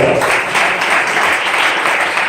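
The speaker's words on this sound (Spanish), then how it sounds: "Denle ese aplauso en su nombre." Church congregation applauding during a pastor's sermon, loud dense clapping that fills the space evenly from start to finish.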